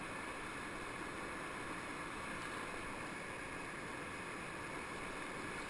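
Constant roar of river rapids on the Coosa as paddlers run a gap, a dense, loud, unbroken rush of water with no talk.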